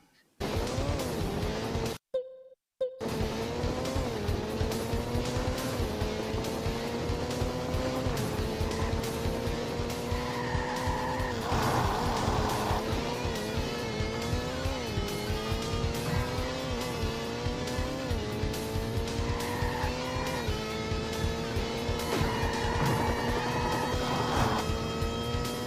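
Engines whine and shift pitch as cars race in the PlayStation game Burning Road, a steady revving drone with rising gear changes, tire squeals and occasional crunches over game music.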